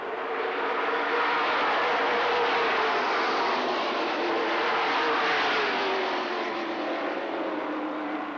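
Mid American stock cars racing at LaCrosse Speedway in West Salem, Wisconsin, a loud, continuous engine roar from several cars with rising and falling pitch as they sweep past, filling the whole stretch without speech.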